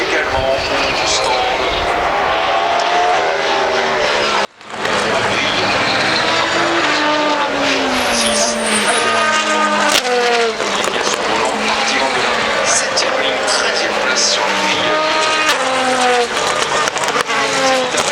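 Race cars at the Le Mans 24 Hours scream past one after another with rising and falling engine pitches, loud and continuous beneath steady commentary.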